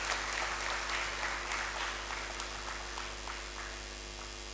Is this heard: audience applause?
yes